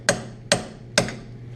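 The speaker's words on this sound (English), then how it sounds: "so we want to just really hammer that in pretty good" Three sharp, loud hammer blows strike a collar on a Honda Civic CV axle, staking it into the axle notch, evenly spaced about half a second apart with brief ringing decay and no talk.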